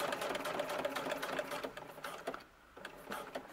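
A sewing machine stitches a green coat with tiny stitches, whirring in a rapid, even rhythm close by for a couple of seconds, pausing briefly, then starting again with a few short bursts.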